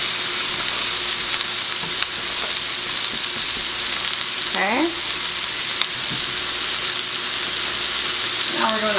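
Buttered egg noodles and cabbage for Polish haluski sizzle steadily in a pan while being stirred, with scraping utensil sweeps cutting through the continuous frying hiss; a brief word is spoken.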